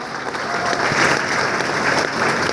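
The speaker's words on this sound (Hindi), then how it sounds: "मैं चाहता हूं सतवीर सर के लिए भी एक बार जोरदार ताली होनी चाहिए" Enthusiastic applause from a seated audience at a motivational speech event, dense continuous clapping at close range for a couple of seconds.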